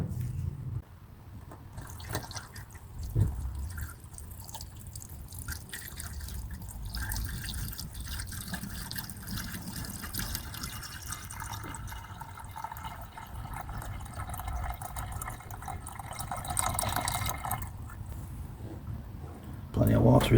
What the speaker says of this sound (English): so we'll put a bit of water in it for now.